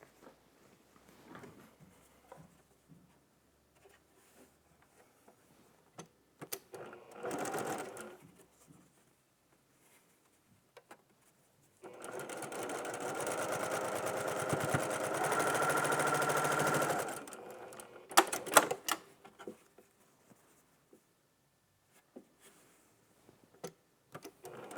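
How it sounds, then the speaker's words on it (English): Sewing machine stitching quilt pieces onto a center square: a short burst of machine running early, then a sustained steady run of about five seconds, with quiet handling noises and clicks between. "we'll sew these to our center square"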